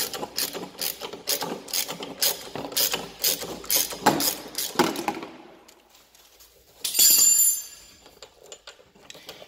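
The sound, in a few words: wrench unscrewing steering column bolt on MBK Skyliner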